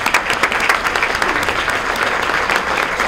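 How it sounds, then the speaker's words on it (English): Audience applause at a chamber of commerce annual meeting, a steady, dense clapping from a room full of people that carries on without a break for several seconds. "Let's join a round of applause."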